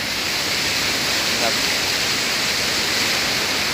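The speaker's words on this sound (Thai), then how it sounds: "บรรยากาศน้ำแรงพี่น้องเอ้ย" Strong, rushing river water flowing past a fishing spot, a constant loud hiss of current that fills the scene without pause; someone briefly speaks over it.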